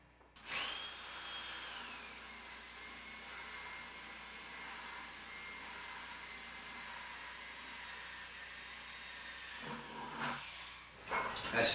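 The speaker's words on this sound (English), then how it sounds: "And we're going to drill a hole" A power drill bores a hole near the bottom of a 5-gallon plastic bucket with a steady, whining motor hum that runs about ten seconds, close and moderately loud, ending in a few bumps and clatters.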